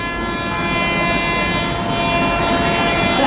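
An Indian Railways train horn sounds with a steady, continuous high twin-tone honk, the Deccan Queen's horn blaring loudly over a station's rumbling background without a break.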